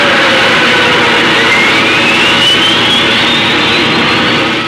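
Japan Airlines DC-8 jetliner engine roaring loud and steady, with a high whine slowly rising in pitch over the sustained rumble.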